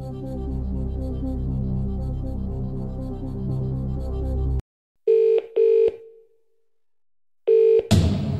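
A telephone rings for a phone-a-friend lifeline in a Who Wants to Be a Millionaire DVD game, two short ringing bursts and then a third after a pause, following a steady musical bed that cuts off abruptly.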